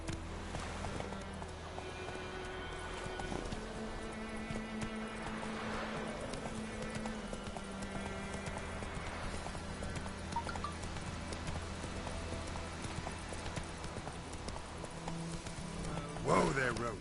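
Roach, the horse in the video game The Witcher 3, moves at pace with a steady stream of hoofbeats. Game ambience and music play underneath, and a voice occasionally cuts in.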